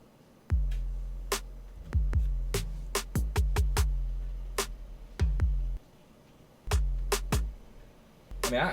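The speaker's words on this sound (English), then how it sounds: "next thing I added was this hybrid knock" Hybrid knock sounds in a music beat: deep booming hits with sharp clicky transients and sustained low tails, landing in an uneven pattern, loud and close with no talking.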